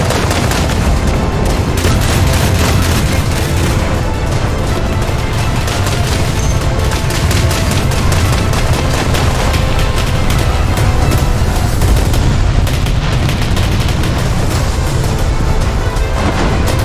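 World War II anti-aircraft guns firing in a video game as bombs fall, a loud, dense barrage of booms and rapid gunfire that goes on without a break.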